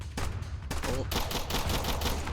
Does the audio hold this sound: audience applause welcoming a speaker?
no